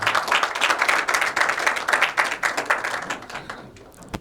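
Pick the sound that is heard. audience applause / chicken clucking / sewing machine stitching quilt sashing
audience applause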